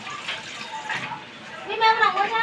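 Water poured into a vessel for making tea, a faint close trickle that rises in pitch as it fills, with someone talking over it.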